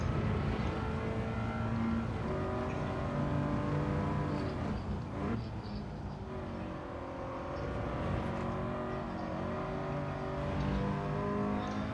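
Race car engines drone steadily during a practice session, a continuous loud, harmonically rich whine rising and falling in pitch as cars accelerate and lift, with no talk.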